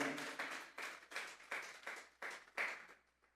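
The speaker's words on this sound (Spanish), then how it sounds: "Vamos a darle una ofrenda de palmas a Dios en esta hora" A church congregation claps in unison as an offering to God, about eight strong, rhythmic bursts of hand claps at an even pace that fade out at the end.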